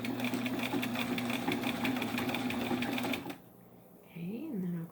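A vintage Singer 15 sewing machine running fast, a rapid, even mechanical clatter that stops abruptly partway through, followed by a brief voice.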